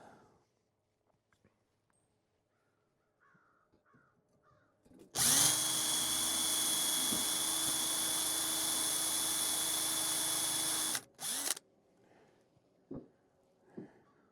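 A power drill runs steadily for about six seconds, boring into a rust-proofed, oil-coated truck, with a loud continuous whine that stops abruptly, then a short burst and a few faint clicks and handling noises follow.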